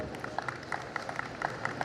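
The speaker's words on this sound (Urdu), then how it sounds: "بیٹی کے لیے زوردار تالیاں بجا دیں۔" Crowd applause at a housing society opening ceremony, a short burst of scattered clapping heard at moderate volume.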